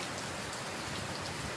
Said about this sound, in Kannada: ಜೋರು ಮಳೆ.